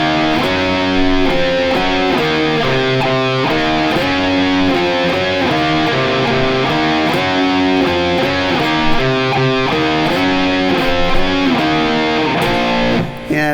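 An unmuted, heavily distorted electric guitar plays a riff, loud and close, with chugging power-chord figures in a repeating rhythmic pattern and no voices, ending abruptly.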